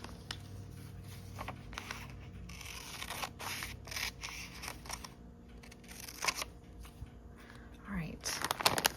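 Scissors snipping through paper while handling wedding-style craft toppers from a mail package, a series of quiet crisp cuts and rustles with soft murmured speech in between.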